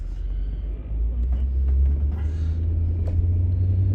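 Steady low rumble inside a car driving southbound on a road, a continuous close engine and tire drone with light ticks and rattles, and no voices.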